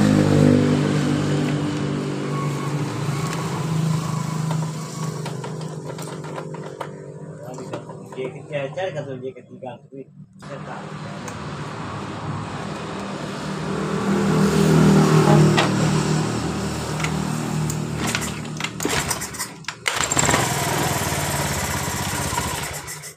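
A 2019 Honda Beat scooter with a stalling, sputtering fault is started and left running, giving a steady close engine drone with small rises in revs. People talk over it throughout.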